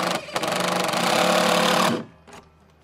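Screws driven into patio decking with a power screwdriver: one sustained, loud whirring burst of close motor drone lasting nearly two seconds, then a brief softer whir.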